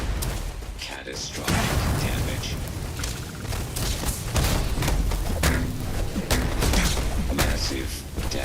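Gunfire in the space game Starfield aimed at the player amid a robot fight, dense booming shots and impacts filling the scene continuously, loud and close, with game noise throughout.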